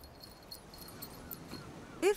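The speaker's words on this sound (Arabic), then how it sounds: "مع كلبي إيج." A dog on a beach gives a faint, brief whimper near the end, a thin rising whine after quiet ambient noise, close by and soft.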